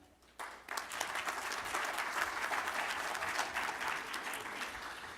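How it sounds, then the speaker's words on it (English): A business symposium audience bursts into applause welcoming a speaker to the podium. Clapping starts abruptly after a brief quiet moment, then holds as a dense, sustained wash of many hands. "Please help me welcome Phil to the podium."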